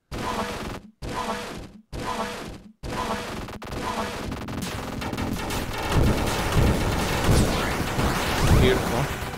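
Gunfire from the shoot-'em-up video game ZeroRanger, opening with several short chopped bursts and then dense, continuous crackling shots and explosions under game music.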